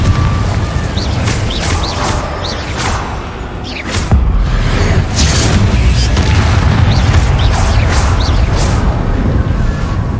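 Repeated fiery blasts of the Confringo explosive spell in the Hogwarts Legacy video game, booming bursts with whooshes over a dense, continuous rumble of combat.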